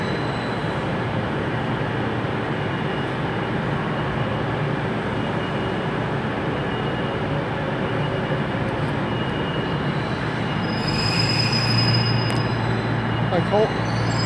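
A ScotRail train rumbles at Glasgow Central station in a steady, loud, continuous roar that fills the space, with faint brief tones and squeals near the end.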